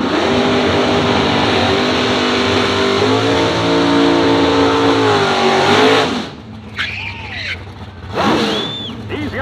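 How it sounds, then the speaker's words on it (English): A 1969 Chevy C10 pickup with a 565 big-block launches into a wheelie at Byron Dragway, roaring loud and close for about six seconds before cutting off. An announcer then talks over the fading noise. "Coming up again in the C10 pickup, Tim Shamblin."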